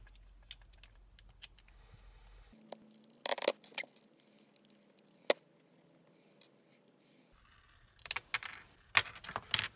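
Small screws being unscrewed from a Dart Zone Magnum toy blaster: sparse, close clicks and light scraping taps come in scattered bursts over a quiet background hum, with no speech.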